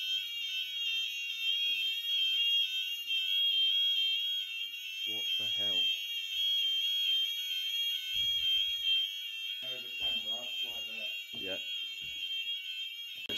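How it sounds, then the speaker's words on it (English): A fire alarm in an abandoned Gothic mansion rings continuously as a steady, shrill electronic tone throughout, while people talk briefly beneath it. "Excuse the alarm"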